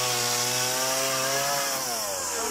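A petrol chainsaw cutting firewood runs at a loud, steady buzzing drone with a strong engine tone, and the pitch shifts slightly near the end as the load changes.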